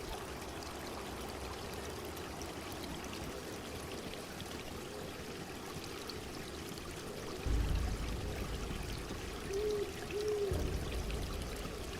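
Gentle flowing water from a small winding river in the video game Baldur's Gate, a steady faint burble that runs throughout, with a low rumble joining partway through.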